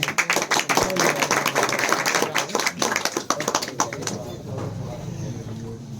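Applause from a gathered audience at a New Year celebration, lively clapping close and loud for about four seconds before dying away into quieter room noise and a low voice.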